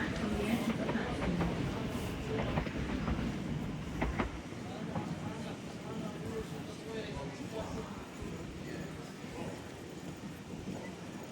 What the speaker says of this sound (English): Train now approaching platform 9 doesn't stop here.